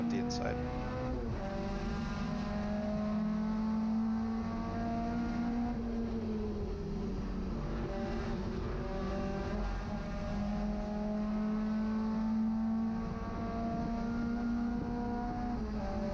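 A BMW 2002 race car engine at Laguna Seca drones steadily at sustained high revs, a loud continuous note from on board that rises and dips slightly through the run, with a voice talking over it.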